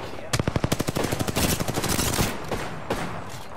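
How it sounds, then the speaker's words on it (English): Airstrike in the Apex Legends video game: a rapid burst of loud, evenly spaced blasts hammers in close succession, then thins into scattered heavier hits and rumbling debris over a few seconds. "Airstrike on our position"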